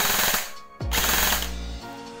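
Si Jun MK18 Mod 1 gel blaster firing full auto, a loud rapid mechanical rattle of shots heard up close, with a brief break partway through before a second burst.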